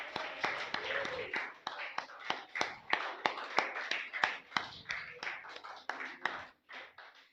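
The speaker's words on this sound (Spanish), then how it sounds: "Dale un fuerte aplauso al Señor." A church congregation claps in quick rhythmic bursts, loud sharp handclaps repeating steadily for several seconds before fading out, with voices faintly underneath.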